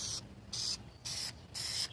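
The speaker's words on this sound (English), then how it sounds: "you spray a little more on." Plasti Dip sprayed from an aerosol can in three short bursts of steady hissing, each about a quarter second, separated by brief pauses, close and fairly loud.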